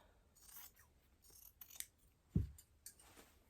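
Scissors snip through fabric while altering a pair of pants, giving one short, close, crisp cut that stands out against otherwise faint background rustling.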